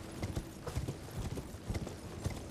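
Horse hooves clip-clop on the ground in the video game Elden Ring, a quick, fairly even gallop of soft thuds that runs throughout, at moderate level without voices.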